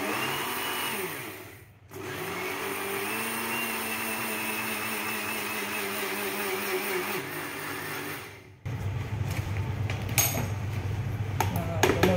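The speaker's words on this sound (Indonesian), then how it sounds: "Ini blender menggunakan grand blender Signora. Super cepat ya, cukup 10-15 detik saja." Signora grand blender running at full speed, grinding granulated sugar into powdered sugar for nastar cookies; a steady loud whirring drone that briefly dips near two seconds, then shifts to a rougher, harsher grind after a pause near the end.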